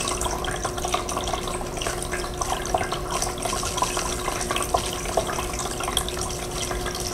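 Water runs from a model river through an opened valve into the reservoir at the back of a groundwater model, a steady close trickling and splashing flow with small drips throughout and no voices.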